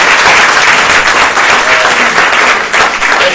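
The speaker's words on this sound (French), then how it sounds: "je lui cède tout de suite la parole sous votre tonnerre d'applaudissements" Loud, dense applause from an audience at a masterclass talk on AI and democracy, a thick continuous roar of many hands clapping close by that holds steady for the whole stretch.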